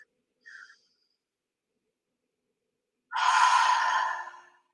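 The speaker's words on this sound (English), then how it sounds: "Breathing gently in and out." A single slow, gentle exhale of breath is heard alone and close, after a faint brief intake, during a calm relaxation exercise.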